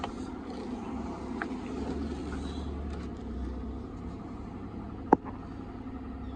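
A 2008 Mitsubishi Pajero V93 engine running at a steady low idle, an even rumbling hum throughout with one brief sharp click near the end.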